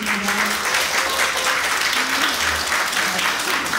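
A concert audience claps steadily and loudly for visiting male ocarina players, the applause continuous and full throughout with no pauses.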